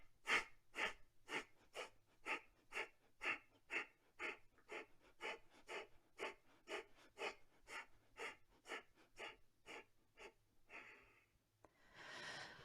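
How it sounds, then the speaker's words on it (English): Pranayama breathing: one deep inhale, then a long steady series of about twenty short, sharp, close exhales through the nose in even rhythm, ending in a longer breath. "Take a deep breath in, and then we're going to take small exhales."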